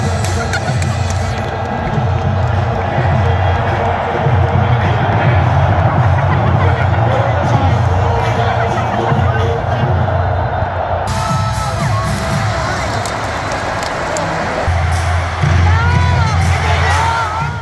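At a Philippine Arena basketball finals Game 7 between Ginebra and Bay Area Dragons, a huge crowd roars and cheers as it does a wave, loud and sustained, with a commentator talking over it.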